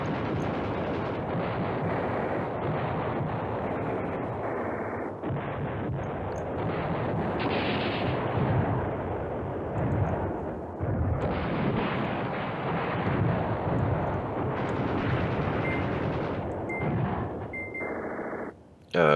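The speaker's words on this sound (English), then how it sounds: "But I'll fire them anyway. I'll use this artillery just to trick down here." Artillery barrage in the wartime strategy game Command Ops 2: Highway to the Reich, a continuous dense rumble of booming blasts rolling on for the whole stretch, loud and unbroken, with a sharp burst at the very end.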